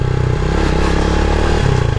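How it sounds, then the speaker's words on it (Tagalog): RUSI Classic 250i motorcycle being ridden, its steady engine drone loud and close with harmonic throb and a slight pitch rise near the end, running continuously with no talk. "napakaganda na motor. RUSI Classic 250i"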